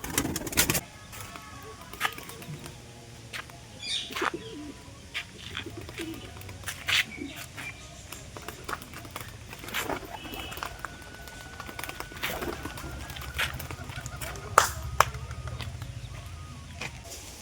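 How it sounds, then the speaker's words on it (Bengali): Pigeons cooing softly outdoors, with low murmuring coos, scattered bird calls and occasional clattering or wing sounds in the background. "আজকে এই পায়রা দুটোকে উড়ানো যাক"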